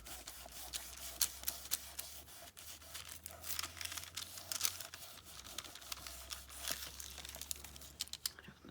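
A paper towel is handled and crumpled while wiping excess finish off a wooden journal tag, producing soft, close crinkling and rustling in small bursts throughout, with no talking.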